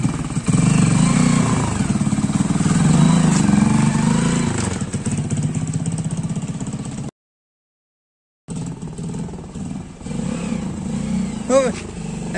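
A modified Hero Splendor motorcycle engine rumbles and revs close by as it is ridden, with voices talking over it, then cuts out briefly before the engine noise returns.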